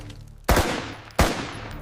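Gunfire in a recreated WWII battle at Salerno: two loud, sharp shots about 0.7 seconds apart, each with a long reverberant tail, over a steady low background rumble, with no voices.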